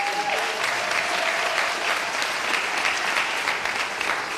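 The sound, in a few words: audience applause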